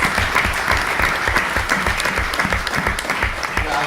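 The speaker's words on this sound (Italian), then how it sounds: "vorrei fare anche un applauso a tutti gli sponsor" Steady, dense applause from a crowd gathered at an amateur football club's season presentation, sustained and fairly loud throughout with no break.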